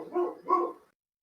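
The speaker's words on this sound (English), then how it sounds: "now there's my dog going" A pet dog close by lets out two quick, muffled barks in succession, then falls silent, with no talking over them.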